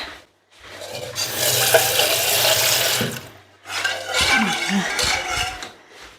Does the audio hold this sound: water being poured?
yes